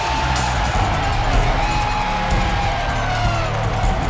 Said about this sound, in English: The crowd stands up, they cheer